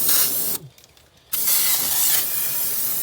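A loud, continuous aerosol hiss of a bug bomb insecticide spraying close by, cutting out briefly for under a second before resuming steadily.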